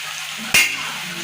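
Food frying in hot oil with a continuous soft sizzle, broken halfway by one sharp, loud clank of a spatula striking the pan during stirring.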